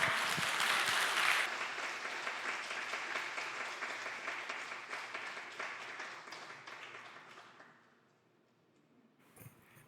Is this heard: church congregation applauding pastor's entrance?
yes